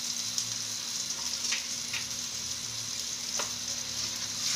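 Mixed adobo ingredients and a bay leaf fry in a pan for adobong galunggong, giving a steady, moderately loud sizzle with soft stirring scrapes and no talk.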